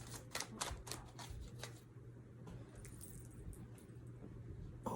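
Tarot cards being shuffled by hand at a tarot reading, a burst of quick riffling flicks up close followed by softer continuous rustling and sliding of the deck, with a steady low hum underneath.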